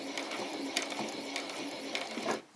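A sewing machine stitches down a frill with a fast, steady mechanical whir and needle clatter, close and fairly quiet, then stops near the end.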